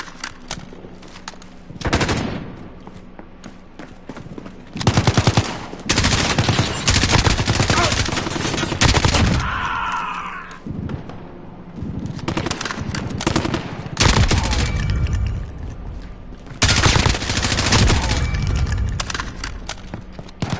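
Rapid automatic gunfire from a weapon in the video game Call of Duty, loud, close bursts and sustained volleys separated by brief pauses, with a short whirring mechanical tone in the middle.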